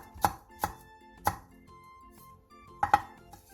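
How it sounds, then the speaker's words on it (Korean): Knife chopping green chili and red chili peppers on a cutting board in a kitchen, five sharp, distinct strikes at uneven intervals, close and clear with a faint background hum. "청양고추 2개와 홍고추 1개를 어슷썰게 해주세요"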